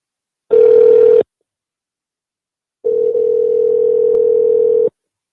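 Outgoing phone call ringback tone with two steady electronic buzzing rings, a short one then a longer one, separated by silence, loud and close.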